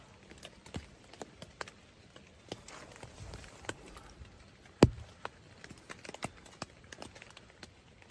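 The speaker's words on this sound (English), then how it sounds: "I hear footsteps." Footsteps crunch outside a tent at night as irregular soft taps and thuds, close and faint, with one sharper knock midway and no voices.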